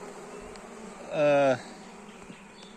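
Honey bees buzz at a hive in a short, close swell that rises and fades over steady low background hum; someone speaks briefly nearby.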